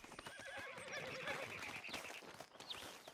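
A horse in Red Dead Redemption 2 gives a quavering whinny lasting over a second, with soft hoof clip-clop beneath, faint and fairly close.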